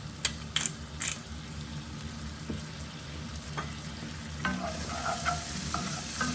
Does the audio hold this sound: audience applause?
no